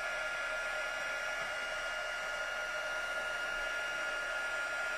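A heat embossing tool heating metal from underneath during a stamping craft technique gives off a steady, close, blowing whir with a constant tone and no change in level throughout, with no talk.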